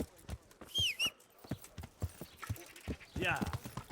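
Horse hooves clip-clopping in Kingdom Come: Deliverance, a steady close rhythm of distinct hoofbeats with a couple of brief whinny-like squeals, someone speaking over them.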